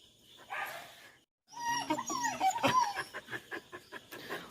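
German Shepherd dogs bark and yip close by, a whimpering cry first, then after a brief pause a busy run of excited barks and whines that settles into a steady string of sharp, evenly spaced yelps.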